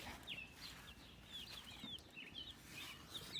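Chickens in a backyard garden coop making soft, scattered high clucks and chirps, faint and somewhat distant over a low outdoor background, with no talking.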